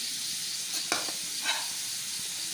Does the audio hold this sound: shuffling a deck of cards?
no